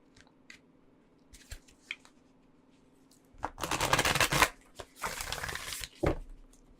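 Oracle cards being shuffled by hand, with soft taps and then two dense riffling bursts of papery flutter, close and quiet, each lasting about a second.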